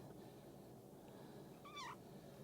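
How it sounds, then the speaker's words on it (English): A cat gives a single short meow under a house crawl space, faint and somewhat distant over low background noise. "There's the cat."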